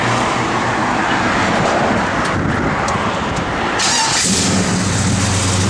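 A 1970 Chevrolet Chevelle SS with a mild cam being started on a cold day: a loud, close engine churning and rumbling throughout, with the note shifting as it catches and settles into a rough idle near the end.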